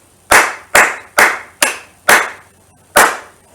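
Six sharp hand claps ring out alone in an uneven, speech-like rhythm, tapping out the syllables of a short phrase in a children's rhythm workshop, each clap close and crisp with a quick decay.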